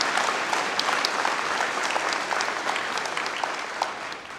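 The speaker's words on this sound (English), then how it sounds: "I think we might need another round of applause for Mr. John Johnson for his last year." Sustained audience applause at a high school commencement ceremony, a dense wash of many hands clapping steadily throughout, moderately loud with slight tapering toward the end.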